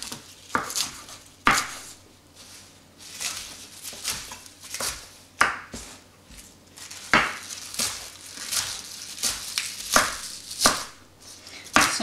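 Knife chopping kale into inch-wide bite-size pieces on a cutting board, a steady series of sharp, close thuds and taps with irregular spacing, each cut crisp and distinct, with no voices.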